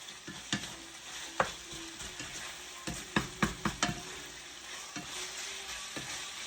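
Beef and broccoli being stirred in a hot pan make a continuous sizzle, broken by several sharp scraping and clacking strokes in a quick cluster, close by.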